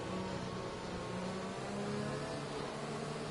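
A Formula car engine in the racing game F1 2021, during an F4 race at the Japanese Grand Prix, gives a dense, continuous loud drone with a steady engine whine.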